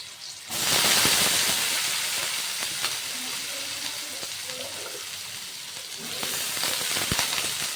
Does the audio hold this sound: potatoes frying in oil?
yes